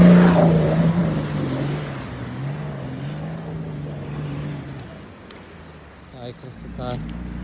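A Nissan Patrol with an M57 engine drives off-road through a forest in Belarus, its engine droning loudly close by before easing off, with a brief rattling burst near the end.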